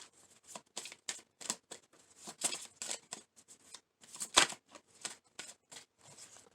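Tarot cards are shuffled in quick, crisp bursts of riffling and slapping, close by and fairly quiet, with irregular pauses between short runs of flicks.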